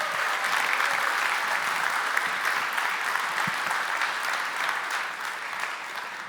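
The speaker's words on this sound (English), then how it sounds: "so give yourself a big round of applause." A keynote audience at the Codegarden 2023 conference hall claps in a broad, sustained round of applause, many hands blending into a steady roar that tapers slightly toward the end.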